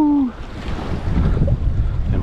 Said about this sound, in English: Importance of staying into the waves.